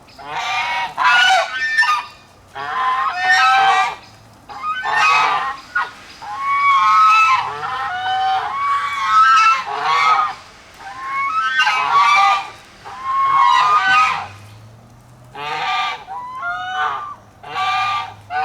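Loud African geese at Salzburg zoo honk repeatedly in close, overlapping bursts, a raucous chorus of harsh calls that continues throughout with brief pauses.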